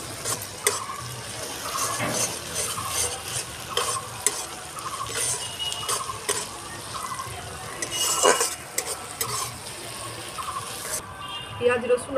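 Onion, garlic and ginger paste frying over medium heat, a gentle sizzle under repeated scraping strokes of a spatula against the pan at a regular pace, with faint background noise and a brief clatter near the end.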